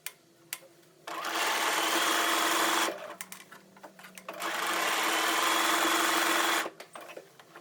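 Sewing machine stitching stretched lace onto lingerie fabric, running in two steady buzzing bursts of about two and four seconds separated by a short pause, with light clicks between.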